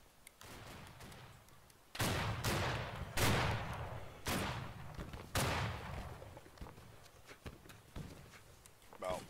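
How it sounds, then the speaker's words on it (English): Musket volleys ring out on a Battle Cry of Freedom battlefield, several loud ragged bursts of massed gunfire a second or so apart, with softer scattered shots between and voices talking over the din. "Open fire on that line in front."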